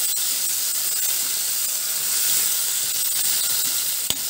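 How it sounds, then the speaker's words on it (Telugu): Chopped tomato pieces cook in oil in a kadai, giving a steady, fairly loud hiss and sizzle throughout with a brief crackle near the end, and no talk. "ఇప్పుడు ఇదే కడాయిలో కట్ చేసి పెట్టుకున్న టమాటా ముక్కలు కూడా వేసి మగ్గించుకుందామండి"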